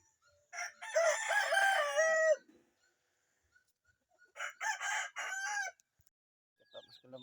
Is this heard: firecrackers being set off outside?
no